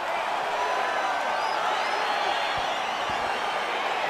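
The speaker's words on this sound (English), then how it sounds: "Crowd getting excited as this fight gets underway" Arena crowd in the EA Sports UFC 4 video game cheering and murmuring as a fight gets underway, a dense steady roar with scattered whoops sustained throughout.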